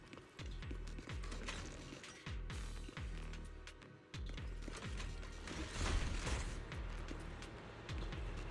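Video game elevator machinery grinding and clanking, a steady stream of rhythmic mechanical gear and ratchet clatter with repeating thuds, continuous and fairly loud, no talk.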